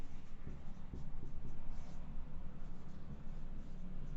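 Pen on paper while writing out math equations for a continuum mechanics lesson: faint, continuous scratchy strokes with small taps, close and quiet over a steady background hiss.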